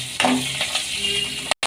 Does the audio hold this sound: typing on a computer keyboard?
no